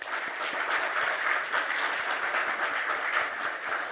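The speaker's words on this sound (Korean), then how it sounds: "우리 박수로 환영해 주시면 감사하겠습니다" A church congregation at a Korean family worship service applauds to welcome visitors, with sustained, dense clapping from many hands in a reverberant hall and no voices over it.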